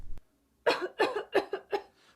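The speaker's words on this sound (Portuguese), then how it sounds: "Tosse? Mal-estar?" A short burst followed by a run of four or five harsh coughs in quick succession, close and fairly loud.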